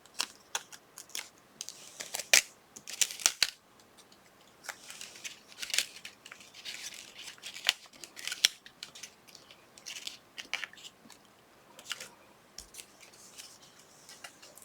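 Scissors trim stems off paper leaves for a papercraft folio album: a run of crisp, close snips comes in irregular bursts, some quick doubles, with light paper rustle between cuts.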